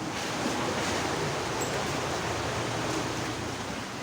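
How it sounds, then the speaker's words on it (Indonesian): Large ocean waves surge and crash against seaside houses at Kelandasan Ulu, Balikpapan, a steady, loud roar of surf and rushing water that fills the whole stretch without letup. "Terjangan ombak di kawasan Kelandasan Ulu Balikpapan ini menyebabkan beberapa rumah rusak."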